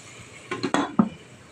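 A lid goes onto a cooking pot of ginataang papaya with flaked fish, giving a few close metallic clinks and rattles in quick succession before settling quiet.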